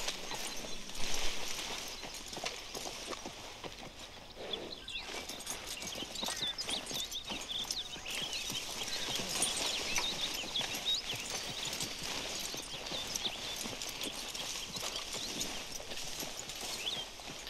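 Horse hooves clip-clopping steadily in the video game Red Dead Redemption 2, a continuous rhythmic trot heard close up over a busy outdoor game ambience.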